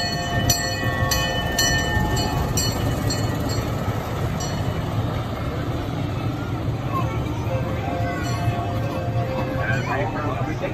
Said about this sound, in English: Here comes the Huff Puff and Whistle Railroad.